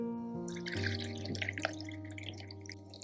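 Water poured into the bottom of a glass bottle for a semi-hydroponic LECA planter, a steady close trickle with rising tonal gurgles and small drips, alone without talk.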